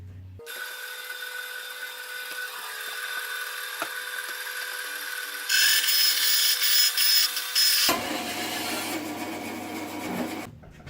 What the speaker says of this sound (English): I'm going on the bandsaw,